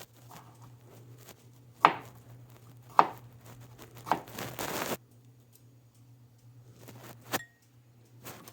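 A knife slices food into rounds with four crisp, separate cuts spaced about a second apart, the last after a pause, over a low steady hum.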